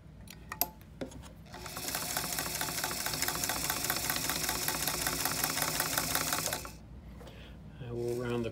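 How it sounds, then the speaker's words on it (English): A 1956 Singer 66-16 sewing machine stitches fabric at a steady fast whir for several seconds, stopping briefly before starting up again, close and fairly loud. "I'm going to start with the longer stitch length and then I'll move to the shorter."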